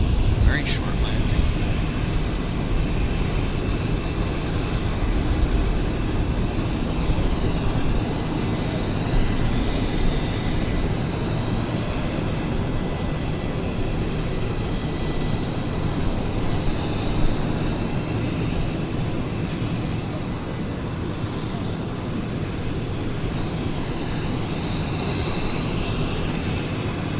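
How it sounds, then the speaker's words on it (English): Medevac aircraft at Vancouver Airport, heard as a steady, loud engine roar that continues for the whole stretch, with talk running over it. "This is a Medevac aircraft, as I said."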